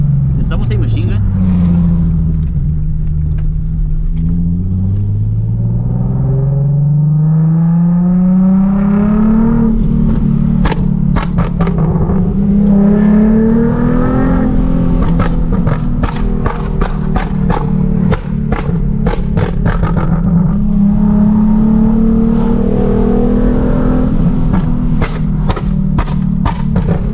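A Nissan 370Z with a loud exhaust revs and drones continuously up close, its pitch rising and falling through repeated throttle blips, with sharp crackles and pops scattered throughout.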